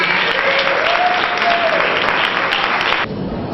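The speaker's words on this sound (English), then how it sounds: "Let's give them a big round of applause as they come forward." Loud, dense audience applause at a Black and Gold Idol event, greeting fraternity sponsors as they come forward, sustained evenly before dropping off sharply near the end.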